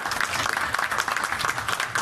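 Applause from the audience at a Victoriaville city council session, a dense, continuous wash of clapping for the whole stretch, loud and even.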